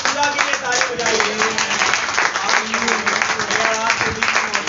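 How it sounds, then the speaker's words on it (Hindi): Worshippers at an Easter church service keep clapping and cheering, a rough, ongoing patter of hands under loud voices and shouts of praise. "उठा खुदा के लिए ताली बजाइए।"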